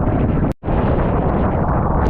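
Strong northeast monsoon wind roars and buffets against the microphone while fishing for tuna, without a break apart from one brief dropout near the start.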